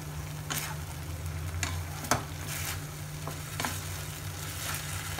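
A spoon gently stirs spring onion and vinegar in a hot pan, giving soft repeated scraping strokes over a steady low sizzle, close and fairly quiet.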